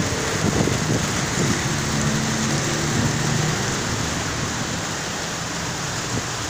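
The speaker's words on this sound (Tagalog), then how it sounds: "Umuulan na naman sa Nueva Ecija." Heavy rain falling in Nueva Ecija, Philippines, a loud, dense, continuous hiss with scattered close drips and patter on surfaces, steady throughout with no voices.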